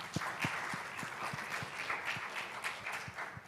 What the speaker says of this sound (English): So I think a big clap to mothers.